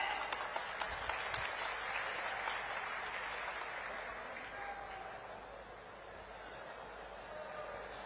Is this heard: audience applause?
yes